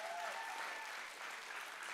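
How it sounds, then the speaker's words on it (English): Audience applause for guests at the close of a relationships Q&A session, a steady wash of many hands clapping at moderate, even level for the full stretch with no voices standing out. "Can we give them a big round of applause?"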